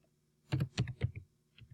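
Several quick, quiet keystrokes tap out a number on a computer keyboard, a close burst of about five clicks and then one last tap after a short pause.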